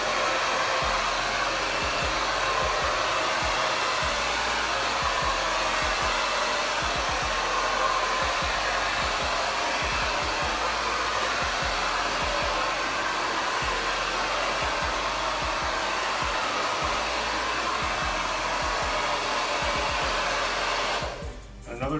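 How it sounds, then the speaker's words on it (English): Hair dryer blowing steadily and loudly while hair is styled with a brush, a continuous close airflow roar lasting throughout before cutting off at the very end. "if you start with the blow dryer and you follow the shape of her hair"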